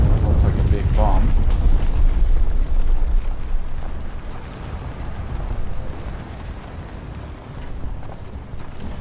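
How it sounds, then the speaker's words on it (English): A big bomb explodes in War Thunder during a tank battle, a loud heavy rumbling blast that rolls on and dies away slowly under continuous battle noise. "Looks like a big bomb."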